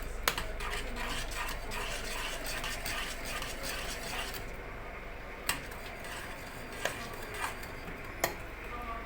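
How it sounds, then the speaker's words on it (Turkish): Soft, steady bubbling and simmering of lentil soup in a pot on the stove, with a few light clicks and taps scattered through. "Mercimek çorbası kaynıyor."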